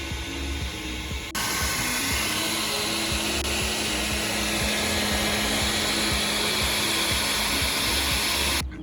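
A heat gun blows a steady, loud hiss while shrinking heat-shrink tubing over soldered wire splices during a 2000 Lexus LX470 bumper install, switching on after a second and running continuously until it cuts off at the end.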